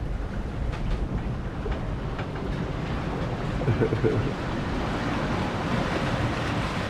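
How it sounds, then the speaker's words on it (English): Large offshore swells roll and rush behind an Island Packet IP420 sailboat, a broad continuous wash of water and wind noise at steady loudness with a slight surge midway. "Oh, this wave's coming up behind us, above the dinghy over here."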